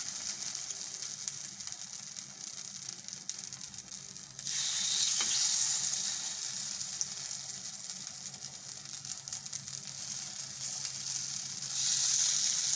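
Appe batter spooned into the cups of an appe pan cooks over a low gas flame, giving a steady soft sizzle and hiss that swells louder midway and again near the end.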